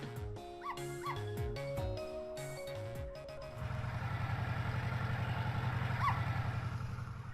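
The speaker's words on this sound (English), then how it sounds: "I barked, you bet I did" Cartoonish dog barks and yips from the video game Ghost Trick: Phantom Detective, a few short barks over game music, followed by a denser, steady engine-like rumble.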